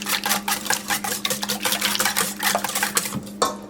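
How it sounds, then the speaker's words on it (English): Batter of homemade vanilla being whisked for cinnamon rolls, a steady rapid scraping and tapping of whisk against a bowl, close and continuous with a low steady hum beneath. "whisk some more"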